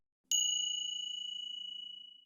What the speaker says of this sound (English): There's also other percussion, like wood blocks and bells.